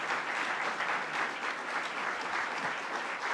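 A crowd applauds at a New York governor's announcement on firefighter training, giving steady, sustained clapping throughout with no voices over it.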